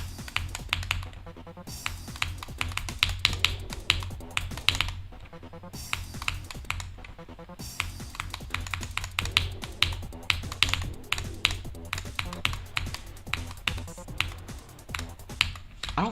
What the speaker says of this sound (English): What keyboard do I have? Wuting 80HE.